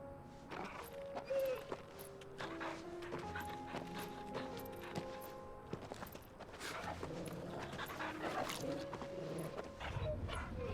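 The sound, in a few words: dog in the video game Final Fantasy 16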